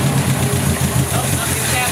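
A 1970s-era Opel GT engine idles after its first start in 30 years, a loud, steady low rumble with a regular pulsing beat, close by, with people's voices over it.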